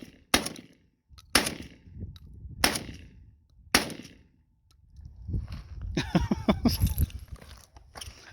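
Four loud, sharp shotgun blasts from a JTS M12 AR 12 gauge, spaced about a second apart with decaying tails, followed by a stretch of clattering, mechanical handling noise.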